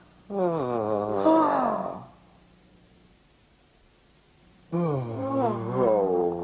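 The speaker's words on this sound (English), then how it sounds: "Yawning." Two drawn-out yawns with a voiced, gliding moan, separated by a quiet pause; close and fairly loud, with no talking.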